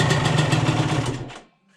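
A small motorcycle engine that had sat unused for years runs with a fast, rough, rattling putter, loud and close, then cuts off abruptly near the end, leaving near silence.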